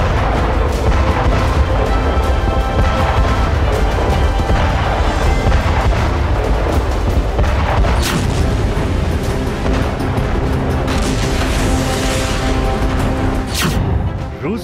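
Bombs dropped by US bombers during Arctic bombing practice, a loud, dense barrage of heavy booms and rumbling blasts that roll into one another without pause, with sharper cracks standing out near the end.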